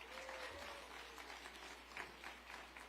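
Applause from an audience at a city reception honoring safe taxi drivers, a dense steady patter of many hands clapping at moderate distance, with faint voices and a low hum underneath.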